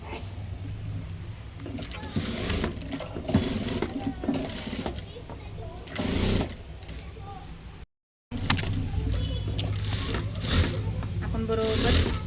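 A sewing machine topstitches a blouse in uneven runs of close mechanical whirring, pausing and restarting, while someone talks over it throughout.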